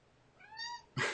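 A house cat lets out a single rising and falling meow close by, followed by a short, sharp burst of noise at the end; no one talks.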